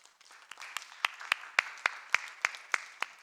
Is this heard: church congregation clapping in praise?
yes